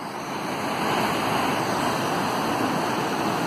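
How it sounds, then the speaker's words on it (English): The Dhuandhar waterfall on the Narmada River sends up a steady, loud, broadband roar of falling water that stays constant throughout, with no voices. "You can see this lovely waterfall, the famous Dhuadhar."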